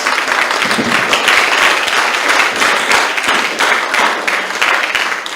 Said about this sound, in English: a big round of applause before we get into this one